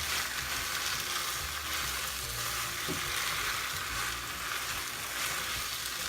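Chicken lo mein with pasta and vegetables being stir-fried in a hot pan, giving a steady loud sizzle with occasional soft stirring scrapes throughout.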